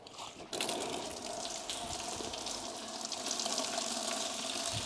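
Coolant gushing out of the lower radiator hose of a VW Phaeton W12 as a quick release clamp lets go, a steady close splashing pour that continues throughout.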